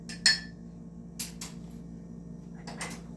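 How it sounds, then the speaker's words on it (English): A spoon stirs a Manhattan cocktail with a cocktail cherry in the glass, giving a sharp clink followed by a few lighter taps and soft scrapes, close and quiet against a low hum, with no talking. "Give that guy a little stir around."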